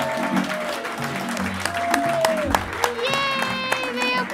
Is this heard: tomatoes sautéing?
no